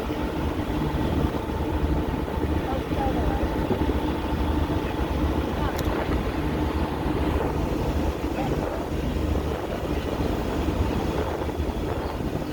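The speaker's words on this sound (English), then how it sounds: "The wind's picking up." Steady wind blowing across an open shipyard, a constant loud roaring rumble buffeting the microphone with no pause, and faint talk in the background.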